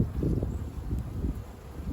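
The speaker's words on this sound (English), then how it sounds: "The wind's picking up" Wind blows outdoors in an apiary, a steady low rushing roar that buffets the microphone continuously.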